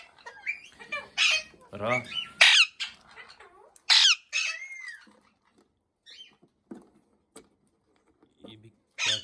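Pet parrots, including cockatiel pairs, squawk and screech in a home aviary setup in loud, sharp bursts, then quieter scattered calls, with someone talking briefly between them.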